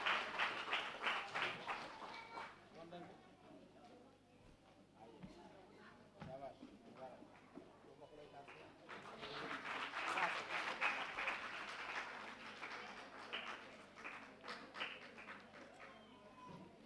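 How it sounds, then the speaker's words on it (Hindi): At a school function, an audience applauds Zainab, the clapping rising and falling in bursts across the hall, heavier near the start and middle, with a voice speaking in places. "जोरदार तालियां बजाइए, यही सबसे अहम तालियों के हकदार है"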